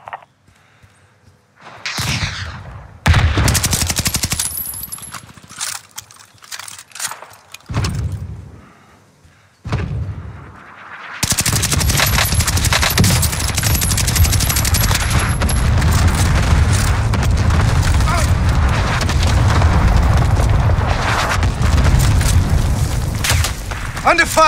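Gunfire in Call of Duty Vanguard Warzone on Rebirth Island, with Bren light machine gun loadout: booming shots and bursts start sparse, then become a dense, loud, continuous barrage of firing and explosions, with game voice callouts mixed in.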